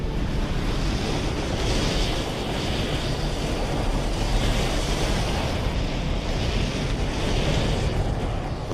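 Tsunami ocean waves crossing the Atlantic: steady surging wash of heavy surf mixed with gusting wind noise, loud and continuous with no breaks.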